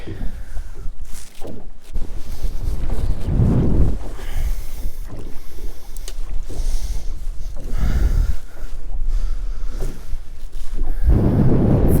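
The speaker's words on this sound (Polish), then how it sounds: "wiatr się zerwał" Strong wind buffets the microphone in low, rumbling gusts while pike fishing, steady throughout with surges and dips, sounding outdoors and exposed.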